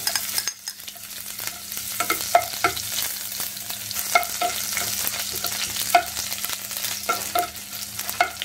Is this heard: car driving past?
no